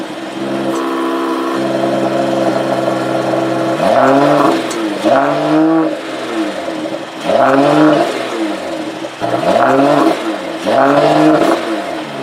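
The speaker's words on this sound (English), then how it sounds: "Now we're gonna start that engine" A Mercedes AMG GT53 engine cranks and settles into a steady idle, then is revved repeatedly in sharp, loud swells, close by and with no talking.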